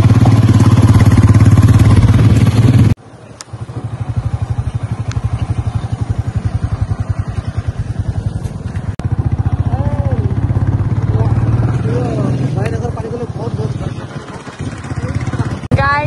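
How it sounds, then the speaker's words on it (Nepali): A Royal Enfield Bullet motorcycle's thumping engine runs steadily and loud as the bike rides along, with wind rumble and occasional clatter. "सो गाइस म चाहिँ बुलेट बाइकमा छु"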